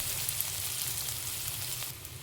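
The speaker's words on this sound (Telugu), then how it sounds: "ఫస్ట్ దీంట్లో వచ్చేసి ఆనియన్స్ వేసుకుంటున్నాను. ఆనియన్స్ మంచి కలర్ వచ్చే వరకు ఫ్రై చేసుకోవాలి." Onions fry in hot oil in a pan for gobi fried rice, giving a close, steady crackling sizzle that runs throughout with no talking.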